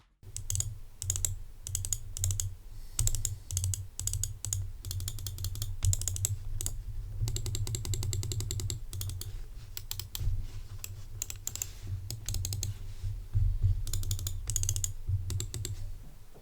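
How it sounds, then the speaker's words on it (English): An SPC Gear Lix Plus gaming mouse in use gives rapid, crisp clicks in irregular bursts, close and moderately loud over a low background rumble, continuing for about sixteen seconds with no talking. "here's a sample of the sound generated by the mouse being used"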